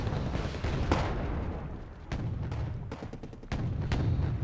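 Artillery fire in the wargame Wargame Red Dragon: repeated booming shots and sharp reports at irregular intervals over a steady rumbling battlefield background, with no voices.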